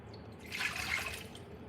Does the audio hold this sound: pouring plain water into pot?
yes